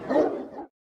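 A single gruff dog bark or growl, as from a Roman war dog, short and loud with a throaty roar-like quality, then silence.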